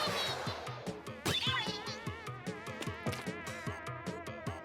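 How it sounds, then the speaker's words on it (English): Buzzy, wavering synth music from Splatoon's story mode on the Wii U drones like swarming flies. Steady rhythmic pulses tick beneath it at moderate volume, with no voices. "a lot of the music in this game sounds like, you know, flies buzzing around"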